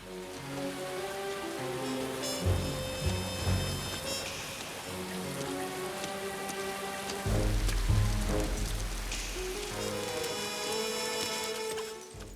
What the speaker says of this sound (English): Whether it's on a simple outdoor rainy night